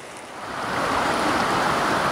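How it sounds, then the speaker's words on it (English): High-water creek flow pours from a culvert under a road embankment into a tributary of Oak Creek in December. It makes a steady, dense rushing roar that swells slightly and then holds constant. "there's the culvert feeding the tributary in"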